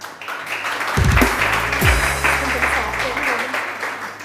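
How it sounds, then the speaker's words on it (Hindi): A studio audience on a morning TV show bursts into applause, a loud, dense burst of clapping near the start that carries on steadily for a few seconds alongside background music. "हम तालियां तो बजा रहे हैं"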